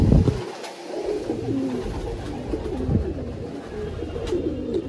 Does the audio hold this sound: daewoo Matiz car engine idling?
no